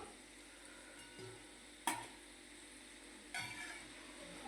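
Sweet potatoes frying in oil for Kathiyawadi undhiyu, a faint, steady sizzle broken by a couple of clinks from a utensil against the pan, close by with no talking.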